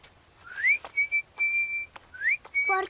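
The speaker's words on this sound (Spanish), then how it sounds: "¿Por qué silbas?" A person whistles in a quiet setting: a handful of short, clear rising and steady tones with gaps between them, ending in a quick warbling trill, close and alone.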